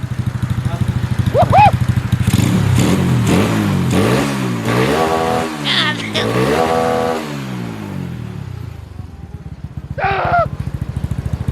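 A motorcycle engine with a fairly quiet exhaust idles steadily up close with a throbbing rumble, briefly revving up and settling back, while people talk over it.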